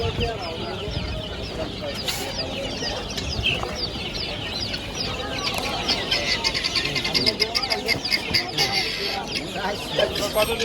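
Many grey francolin chicks chirp and peep constantly in a busy, noisy market enclosure at Mirpur, a dense chorus of high calls with some low voices underneath.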